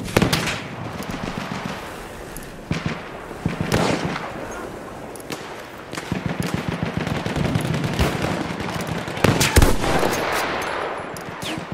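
Rapid gunfire crackles through a Battlefield 1 battle, with bursts of rifle and machine-gun shots, sharp nearby cracks and a heavy blast near the end, dense and loud throughout.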